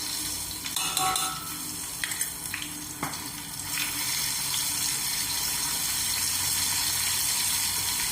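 Ginger garlic paste fries in a hot pan with steady broadband sizzling, punctuated by several scraping stirs near the start, continuing alone without speech throughout.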